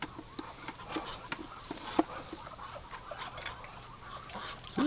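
Muscovy ducks in a wooden duck house give scattered soft calls and brief squawks, one sharper cry standing out, over a steady low rustle and murmur of the flock close by.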